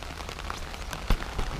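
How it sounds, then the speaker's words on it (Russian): A heavy rain downpour drums on a tent at a riverside fishing spot, a dense, close patter of drops with a louder sharp impact near the end and no voices. "влил просто такой ливень"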